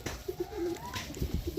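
Madras pigeons in a loft give soft, rhythmic coos in short repeated bursts, fairly quiet and close, with a brief whistle-like tone and light background noise.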